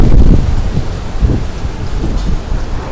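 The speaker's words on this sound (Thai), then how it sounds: "ลมแรงมาก" Strong wind buffeting the microphone outdoors beside a Mitsubishi Pajero, a loud, continuous low rumble with heavy gusty roar that eases slightly, no speech.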